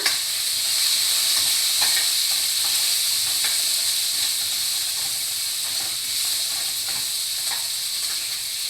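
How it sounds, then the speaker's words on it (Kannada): Ginger, garlic and curry leaves sizzle steadily in hot oil in a pan, a bright continuous crackling hiss with faint scrapes of stirring throughout, close and fairly loud with no talk. "ಆಮೇಲೆ ಶುಂಠಿ ಬೆಳ್ಳುಳ್ಳಿ ಕರಿಬೇವು ಮೂರು ಹಾಕ್ತಾಯಿದೆ ಈಗ ಒಂದು ಮಿಕ್ಸ್ ಕೊಡೋಣ"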